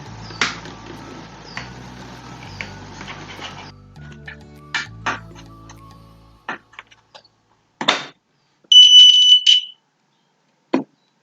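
Clicks and scraping sounds lead up to a single sharp electronic beep from a homemade pulsometer game device, triggered by touching a metal plate, ringing for under a second, followed by one more click.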